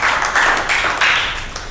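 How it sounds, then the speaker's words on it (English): A classroom of school students clapping together for a classmate who answered correctly, a dense, steady patter of many hands lasting throughout, fairly loud and close with no talking over it. "please clap for Bhumika."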